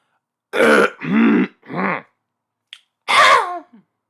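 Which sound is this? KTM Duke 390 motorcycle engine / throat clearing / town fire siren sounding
throat clearing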